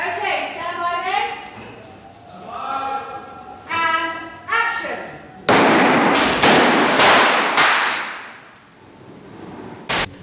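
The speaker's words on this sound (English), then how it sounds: "The TARDIS is going to be blown to smithereens." Sharp bangs and crackling bursts from a special-effects explosion blowing up a TARDIS prop, a cluster of loud cracks following voices talking beforehand.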